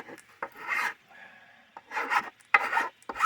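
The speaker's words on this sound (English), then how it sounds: "this, this is a bastard file, but it's actually pretty fine in my opinion" A bastard file is drawn across an old wooden stair tread in close, dry rasping strokes that come in several separate bursts with short pauses between them, and no one talks.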